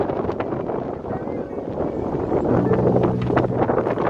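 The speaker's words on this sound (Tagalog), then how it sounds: "Lakas ng hangin." Strong wind at a high outdoor viewpoint in Hong Kong's Mini Dubai area, buffeting the microphone in a continuous loud rumbling roar that swells toward the end.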